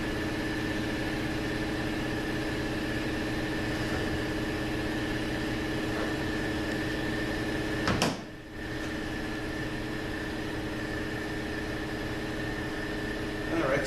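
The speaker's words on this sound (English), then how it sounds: "I'll just wait for the compressor to stop." An air compressor runs in a workshop with a steady, even mechanical hum and whine, close by and continuous, broken by one brief sharp knock partway through before the drone carries on unchanged.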